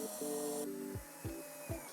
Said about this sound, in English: So now we can put the 3 screws in through the holes to hold it in place.